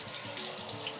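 Shower water running steadily during a dog's bath, a continuous bright splashing hiss filling the space, close and even with no break and no speech.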